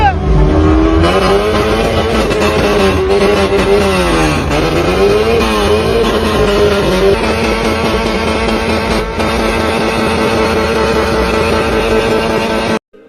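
A car drifts through streets in GTA 5 with a drift mod, its engine revving and whining in rising and falling pitch with tire noise, loud and continuous while someone talks over it.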